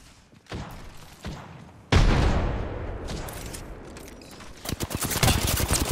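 A frag grenade detonates in a shooter video game with a sudden loud blast and rumbling tail, preceded by a few sharp shots and followed by rapid gunfire bursts.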